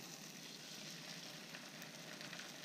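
Margarine melts in a hot pan before trout fillets are cooked, giving a soft, continuous sizzle and crackle that is faint and steady with no talking.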